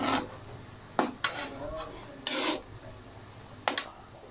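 Squid adobo stirred in a cooking pan: a few distinct scraping strokes of a utensil against the pan, spaced a second or so apart, close and clear over a quiet simmering background.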